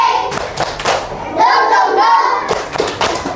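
Group of schoolchildren in a classroom doing a rhythmic spirit clap, bursts of loud claps and thumps in patterned groups, mixed with children chanting between them.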